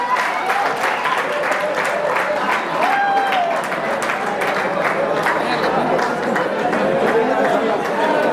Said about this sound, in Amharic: አጨብጭቡ፣ አጨብጭቡ። እንኳን ደስ አላችሁ በላቸው።